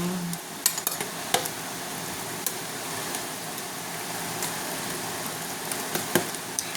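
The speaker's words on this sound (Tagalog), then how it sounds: "Halo-haloin natin ang ating sinigang." Pork sinigang is stirred in a pot, with a ladle scraping and clinking against the sides in irregular taps over a constant simmering, hissing background, close up with no talking.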